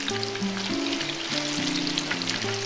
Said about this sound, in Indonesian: Saya akan goreng sampai kering ini.